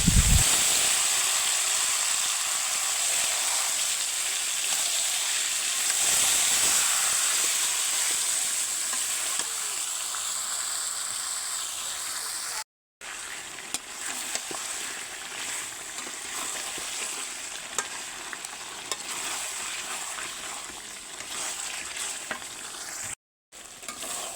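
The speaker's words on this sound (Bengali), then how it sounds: "মুরগির মাংসটা দিয়ে সুন্দর করে কষিয়ে দেবে" Chicken pieces sizzle and fry steadily in a pan over onions browned red, with occasional stirring scrapes during the sauté, a continuous close hiss broken by two brief silent gaps.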